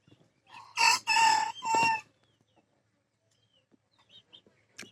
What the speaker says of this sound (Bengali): দুই দিকে মুরগি আছে, ওদিকে মুরগি আছে,